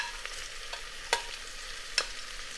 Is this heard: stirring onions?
yes